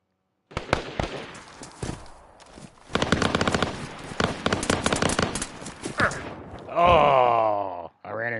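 Gunfire in the survival game DayZ: sharp shots cluster into loud sustained bursts, with a short pause in between, followed by a groaning, pitched cry near the end.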